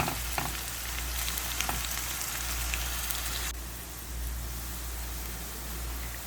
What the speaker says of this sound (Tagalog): saute for about 5 minutes or until well brown